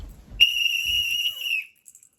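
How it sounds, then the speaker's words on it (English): A single sharp, high whistle blast from a referee cuts in after a short low rumble, holding steady for over a second before stopping abruptly. "kind of blowing the whistle"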